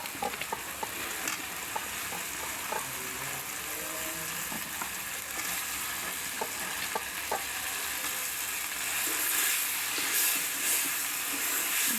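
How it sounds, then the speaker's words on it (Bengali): Eggplant sizzles and fries in a pan of cooked-down spice paste while being stirred, a steady close crackle broken by scraping spoon strokes, with no voices. "বেগুন দিয়ে ভালোভাবে কষিয়ে নেব।"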